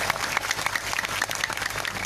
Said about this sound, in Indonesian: Tepuk tangan buat umat Islam.